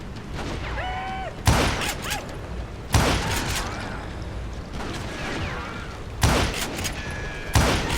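Revolver gunfire in the Western shooter game Call of Juarez Gunslinger: four loud, sharp shots spaced a second or more apart over a steady bed of game ambience and mechanical clicks.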